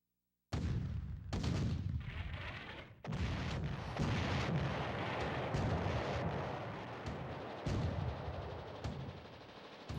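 Artillery barrages from the strategy war game Allied General, booming in a dense run of loud, overlapping blasts and rumbling impacts that continue almost without a break, with no voices.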